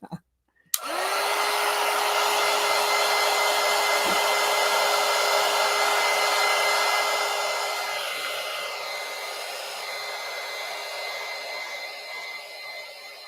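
A hair dryer clicks on and blows in a steady loud whoosh with a constant motor hum while drying mixed media collage pages, easing slightly in strength toward the end.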